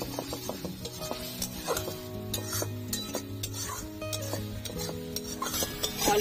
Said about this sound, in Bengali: লঙ্কার গুঁড়ো, মশলাগুলো ভালো করে কষিয়ে নেব।